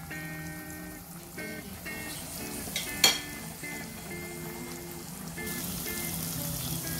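Garlic and peppers frying in a pan give a gentle, steady sizzle with occasional small crackles and one brief louder spit, under a tonal background.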